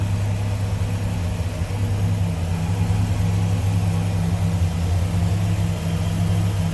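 A 2004 Dodge Ram SRT-10 pickup's V10 engine idles steadily and smoothly, a deep, even rumble heard close up without voices.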